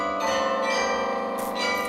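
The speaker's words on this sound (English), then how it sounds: "yank long cables that in turn pull on clappers, clanging out classical tunes on 7 tons of bells" Clappers pulled by long cables strike a set of large bells weighing seven tons in total, ringing out a classical tune with sustained overlapping tones and a couple of fresh strikes near the end.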